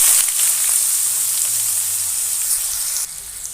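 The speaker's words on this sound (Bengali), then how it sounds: "তো দেখো এঁচোড়টা আমি ভেজে নিচ্ছি, সুন্দর করে ভেজে নেব" Raw jackfruit pieces sizzle in hot oil, a steady close crackling hiss that holds for a few seconds before dropping slightly.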